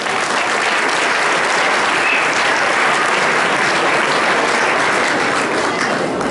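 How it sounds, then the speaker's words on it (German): Theatre audience at a youth sports awards ceremony in Herford's Stadttheater, applauding loudly and continuously, a dense, even roar of many hands that never lets up. "Dein Applaus."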